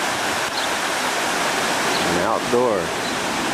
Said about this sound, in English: small river that runs through the village.